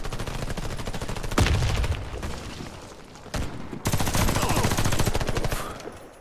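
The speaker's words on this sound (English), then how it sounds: "Did you see that guy shooting there with the shotgun?" Shotgun blasts ring out in Warface multiplayer on the Hangar map, loud sharp bursts of gunfire firing in quick repeated volleys with brief pauses between them.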